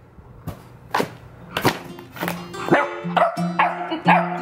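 A puppy barks loudly and close by, a string of sharp yips that start sparse and crowd together, with rustling and background noise mixed in.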